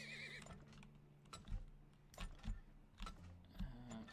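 A horse whinnies in the oil-tycoon video game Turmoil, followed by clip-clop-like hoof thuds and jingling, quiet and game-like with a few distinct bursts.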